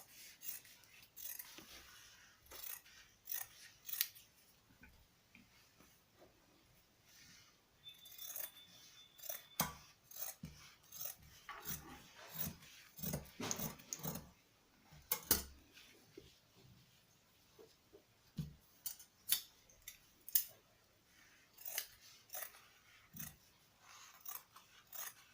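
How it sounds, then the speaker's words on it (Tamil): Scissors cut through old denim jeans to make handbag handles, giving repeated soft, close snips and rustling fabric scrapes in an irregular rhythm throughout, fairly quiet with no voices. "கைப்பிடிக்கு வந்து நம்ம கட் பண்ணிக்கலாம்"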